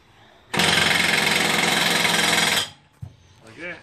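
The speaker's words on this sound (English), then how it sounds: "But the impact gun's pretty quick." An impact gun tightens the blade bolt on a 32-inch Wright Stander mower deck. It gives one loud, close, continuous rattling burst of about two seconds, followed by a brief knock and a short voice.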